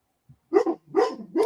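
Tucker the dog barks nearby in a quick run of three sharp barks, each loud and close, after a faint lead-in sound.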